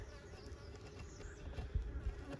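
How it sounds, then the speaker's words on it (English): A single bee buzzes faintly near a beehive, its droning hum wavering as it hovers close by in a quiet outdoor setting with no talking. "I hear a bee coming close to me and I am not suited up."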